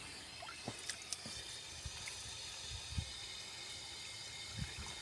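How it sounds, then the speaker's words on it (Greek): Water poured from a garden hose onto coffee, a steady faint rushing spray with scattered soft drips and splashes. "Με το λάστιχο θα ρίξουμε."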